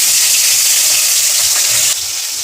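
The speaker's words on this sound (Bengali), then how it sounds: "এবার ভাজবো। তেল গরম হয়ে গেছে।" Pieces of fresh katla fish, rubbed with salt and turmeric, sizzle loudly in hot oil in a kadai, a steady close crackle and hiss that drops slightly in level near the end.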